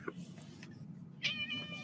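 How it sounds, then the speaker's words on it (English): A house cat gives a short, close meow near the end, faint against a quiet room hum. A brief soft chirp comes earlier. "Sorry, my cat is being a cat."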